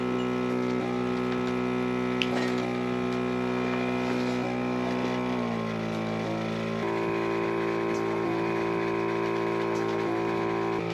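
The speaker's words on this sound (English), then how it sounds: "There is somewhat of a pulsation that does occur during the milking process." A Hantop goat milking machine runs with a steady, fairly quiet motor hum, its tone dropping and shifting slightly partway through as the pulsation cycle changes, with no talking.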